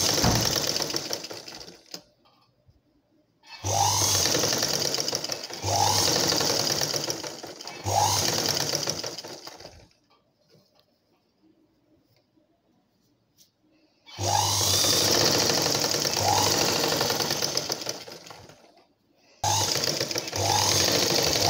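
A sewing machine stitches a cotton blouse in repeated bursts of fast mechanical chatter, each lasting a few seconds, with pauses of near silence in between.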